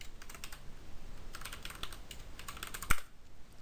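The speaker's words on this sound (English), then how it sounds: "I'm just going to type that also into the unique name as well" Typing a texture name on a computer keyboard while working in Maya LT: a quiet run of quick, light key clicks in uneven bursts, ending with one sharper keystroke.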